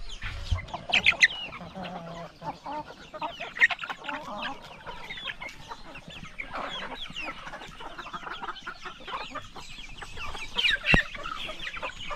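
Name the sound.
chickens clucking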